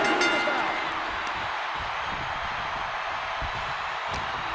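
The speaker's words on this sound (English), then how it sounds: "This crowd is thunderous right now." A thunderous wrestling arena crowd roars at a WWE Roman Reigns vs Seth Rollins table and ladder match, a loud, dense, sustained wall of noise that holds steady throughout.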